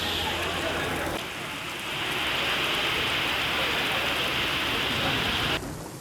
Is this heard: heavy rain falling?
yes